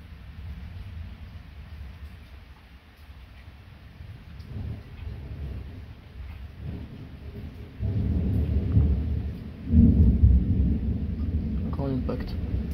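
A thunderstorm with light rain hissing steadily and low rolling thunder rumbles that swell louder in the second half, with a heavier rumble near the end and occasional talk audible.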